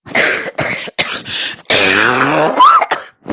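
A few short, harsh coughs close to the microphone, followed by a longer raspy throat-clearing cough.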